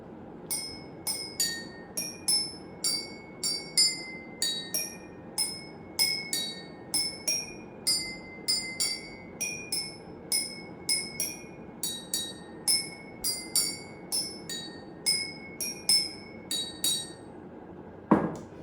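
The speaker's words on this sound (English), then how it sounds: "I will be playing a song by banging the spoon against these glasses." A spoon strikes glasses in a steady rhythmic sequence of bright, ringing pings at different pitches, forming a simple melody over faint background hiss.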